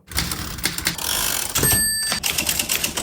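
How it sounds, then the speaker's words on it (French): Rapid clacking keystrokes of a mechanical typewriter, with a brief bell-like ring and pause midway before the typing resumes. "il tape plus ou moins fort sur ses touches"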